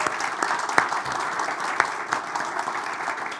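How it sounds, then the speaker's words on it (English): An audience at a Sunday gathering in a spiritual life center claps in sustained, even applause, with a few sharper claps standing out, no voices over it. "So let's give them a big round of applause."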